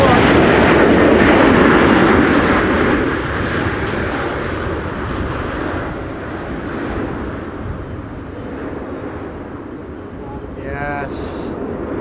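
An airliner making a second landing attempt in high winds at Amsterdam Schiphol during Storm Benjamin gives off a loud engine roar that peaks early and then eases into a sustained rumble. Talking is heard over it, followed by a brief chirp near the end.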